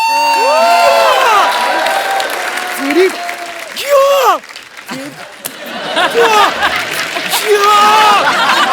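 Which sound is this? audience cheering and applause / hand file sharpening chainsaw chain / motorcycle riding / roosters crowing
audience cheering and applause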